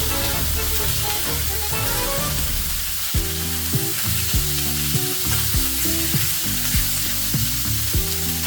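Chicken legs sear in an open pan, a loud continuous sizzle and crackle of frying with scattered pops and spits throughout.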